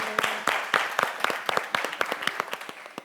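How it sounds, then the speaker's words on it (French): Studio audience applauding participating families at a Christmas family TV show, fairly sparse clapping with distinct individual claps standing out in a loose rhythm, moderately loud and close, without talk. "Aussi, on vous applaudit."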